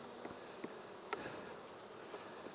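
Honeybees in a hive being checked for winter readiness, a faint steady insect hum with a few soft clicks and knocks over quiet background noise.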